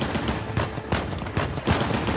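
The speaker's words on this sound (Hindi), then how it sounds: "पीछे से कोई फायरिंग कर रहा है" Gunfire in the Uncharted video game, a series of sharp shots fired from behind in irregular bursts, moderately loud against a busy game soundscape.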